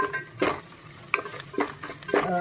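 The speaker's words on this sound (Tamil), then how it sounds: "அதனால் வெங்காயத்தை நல்லா வதக்கிக்கணும்" Onions are sautéed in a pan for soya biryani, with several distinct scraping stirs of a spoon over a soft background sizzle, spaced irregularly and close by.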